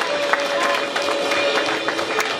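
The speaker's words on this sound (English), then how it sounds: "Once again, clap offering for Jesus." Church congregation clapping during worship as a clap offering, a lively crowd of hands sounding close and continuous, mixed with scattered voices and faint cheers.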